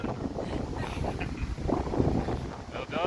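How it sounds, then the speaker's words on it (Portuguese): Strong gusting wind sweeps across an open rural spot ahead of rain, roaring and buffeting the microphone steadily throughout, with people's voices faintly mixed in under the rush. "Vamos sair voando com essa ventania."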